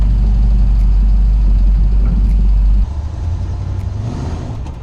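An early Ford Bronco's engine runs loud and steady, close by, as the truck drives out of the shop, with a deep low rumble that drops to a lighter idle-like drone partway through.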